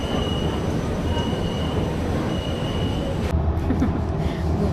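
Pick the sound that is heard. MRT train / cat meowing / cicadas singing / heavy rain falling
MRT train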